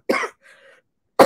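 A woman coughs close up: one short harsh cough, a faint breathy trailing sound, then another cough starting right at the end.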